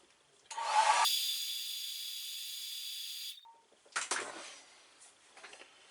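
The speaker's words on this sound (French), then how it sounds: "on peut venir y remettre un coup de sèche-cheveux" A hair dryer roars on with a steady, close whooshing hiss for a few seconds, cuts off, then comes some rustling and brief bursts of noise, during restoration work on a Honda CBX 400F motorcycle.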